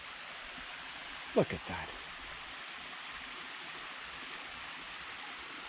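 Gentle small waterfall by a little pool along the Bruce Trail in the Beaver Valley, a faint steady rushing wash throughout, with a brief spoken remark near the start.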